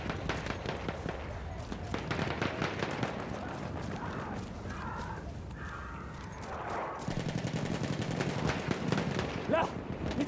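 Enemy machine gun fire in the World War I shooter Verdun, rapid bursts and scattered shots crackling over constant battlefield noise, with a brief quieter stretch midway before the firing picks back up.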